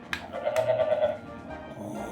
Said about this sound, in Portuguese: O som de ovelha.